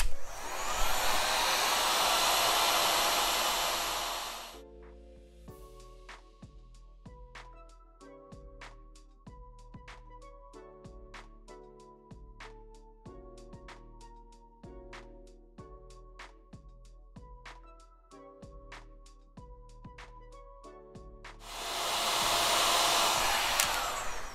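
A heat tool blowing hot air over a Scorch Marker craft piece: two bursts of steady, rushing fan noise at the start and end, with plinking background music in between.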